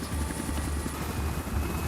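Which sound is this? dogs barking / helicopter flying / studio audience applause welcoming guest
helicopter flying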